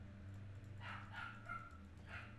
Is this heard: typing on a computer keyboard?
no